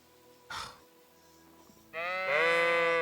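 A sheep in the Kingdom Come: Deliverance II video game lets out a loud, close, wavering bleat after a brief rustle, with no talk over it.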